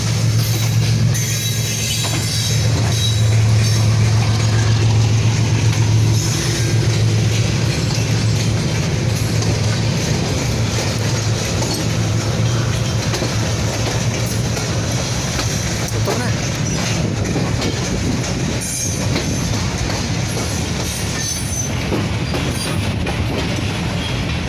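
A train crosses the historic Sindh Bridge near Kotri Junction in Pakistan, a steady loud rumble of rolling wheels and wagons with low hum throughout, faint rhythmic clatter and occasional squeal over about twenty-five seconds.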